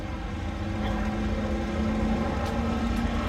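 A US Navy warbird fighter aircraft painted in VF-20 dark blue flies at the Flying Legends airshow, its propeller engine giving a steady droning roar that holds for a few seconds with a faint tonal hum.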